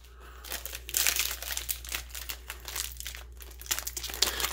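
Crinkling and tearing of the plastic packaging on a Transformers War For Cybertron Siege figure pack, a close, continuous rustle with sharper rips over a low background hum.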